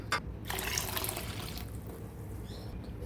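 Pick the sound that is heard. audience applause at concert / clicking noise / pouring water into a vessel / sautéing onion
pouring water into a vessel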